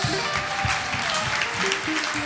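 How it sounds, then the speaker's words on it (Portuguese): A church congregation applauding during a Pentecostal vigil, a brief, loud, continuous burst of many hands clapping with music or voices faintly underneath. "Aplauda ao Senhor Jesus"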